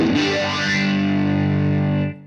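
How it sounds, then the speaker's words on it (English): An electric guitar played through the phaser effect of a Fender Mustang LT25 amplifier: one loud, distorted chord rings with a swirling sweep for about two seconds, then cuts off. "What else have we got in here? Phaser."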